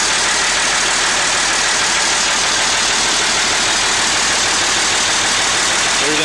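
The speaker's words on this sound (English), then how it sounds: "There's the motor from this side." A tank truck's engine idles with a steady, loud, dense mechanical rumble that runs unbroken for the whole stretch, with no pauses or revving.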